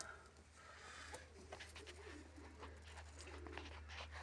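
Pigeons coo softly and repeatedly in a loft where a hen pigeon sits with young chicks, the calls steady over a low constant hum with no talking.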